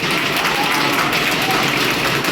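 Seminar attendees at a coaching class keep up continuous crowd applause, a steady, dense roar of clapping with a murmur of voices mixed in beneath it.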